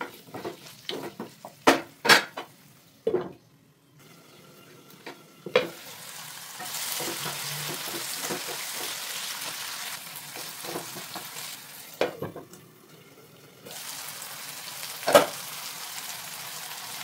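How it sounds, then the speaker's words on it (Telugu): Onions and green chillies frying in oil in a pan, with tomato pieces, stirred with a utensil: a steady close sizzle broken by scraping and clinks of metal against the pan, with no talking. "బాండి పెట్టుకొని నూనె వేసుకొని తాలింపు గింజలు వేసి వేయించుకొని ఉల్లిపాయలు పచ్చిమిరపకాయలు వేయించుకుంటున్నాం"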